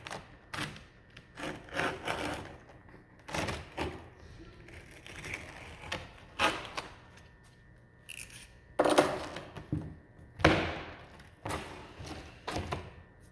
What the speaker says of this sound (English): I'm going to show you how to use the straight blade opposed to the hook